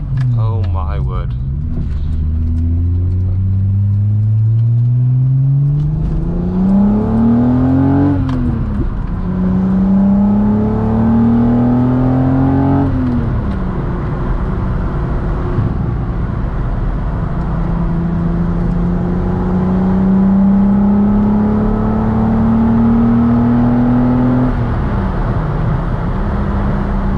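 A modified 12-valve VR6 swapped into a Mk2 GTI with cams and short gear ratios revs hard through repeated climbing pulls and gear changes while driving, loud and close throughout.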